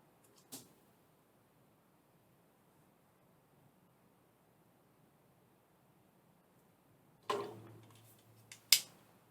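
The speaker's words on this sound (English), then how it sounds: "cut our square at the diagonal" Scissors cut a fabric square along the diagonal in a quiet room: a single snip, a long hush, then a brief rustling cut and a final sharp snip.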